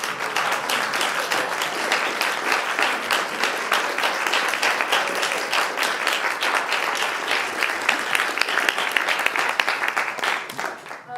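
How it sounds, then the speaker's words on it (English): A community potluck crowd gives sustained applause, many hands clapping steadily for about ten seconds before tapering off, with some voices in the mix. "applause for the work that they do"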